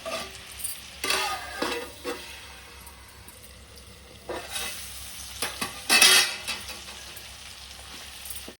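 Tomato chicken curry being stirred in a pot, scattered scraping and sloshing strokes with soft sizzling underneath, irregular bursts rising and falling across several seconds, close and fairly quiet.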